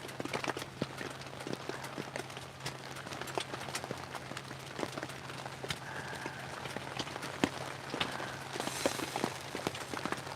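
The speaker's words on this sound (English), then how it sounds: "So it's raining pretty good." Rain falling on a hot tent while camping in Michigan: dense, irregular pattering of drops on the fabric with sharper individual taps, steady and fairly faint, heard alone.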